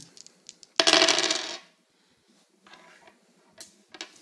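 Dice rattle and tumble across a table during a Cabin Fever dice game: one loud clattering burst of under a second, then a few softer taps and small clicks as the dice settle.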